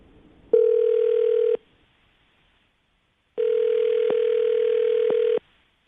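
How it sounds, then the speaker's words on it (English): Two steady telephone tones, a short one and then a longer one, each stopping abruptly, with brief quiet between them and no talking. "Let's dial the phone number right now."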